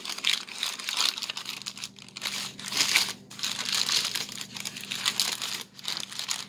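Fudge being pressed into a wax-paper-lined loaf pan gives steady close crinkling and crunching of the paper, in continuous bursts with brief pauses, and no talking.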